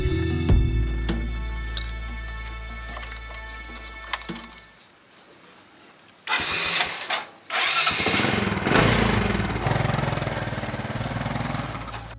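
A motorcycle tricycle engine sputters and idles, cuts out into near silence, then restarts and runs with a loud, rough, steady putter; no voices are heard.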